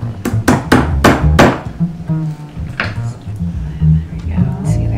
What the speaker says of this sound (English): These are green cardamom pods. Actually, I could probably add them on top of there, but you have to smash them.